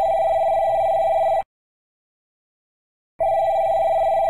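An old-fashioned telephone bell rings loudly in two bursts separated by a second of silence, a steady electric trill close by with no voices.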